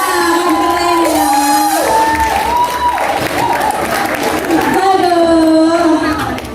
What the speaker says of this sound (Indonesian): aku mau minta tepuk tangan dulu dong